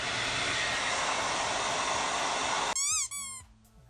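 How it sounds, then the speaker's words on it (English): Hair dryer blowing hot air onto a hair cap, a loud steady close-up whoosh that cuts off abruptly near the end, followed by a few short squeaky chirps. "we are going to blow dry the actual cap to add some heat"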